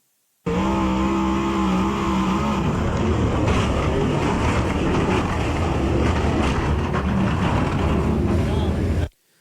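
A stock car crash at an Ocala race, a sustained loud roar of engines and rumbling impact noise that starts abruptly and runs steadily for several seconds before cutting off.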